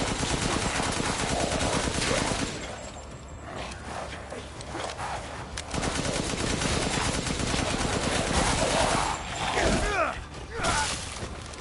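Dense, rapid machine-gun fire and bullet impacts from a video game village battle, loud and nearly continuous, easing briefly before resuming in heavy bursts.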